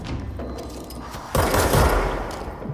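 Shotgun fire in the video game Control: a loud burst of gunfire erupts after a quieter stretch, with heavy blasts and rattling reports packed together in a dense, close fusillade.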